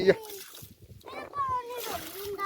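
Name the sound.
water splashing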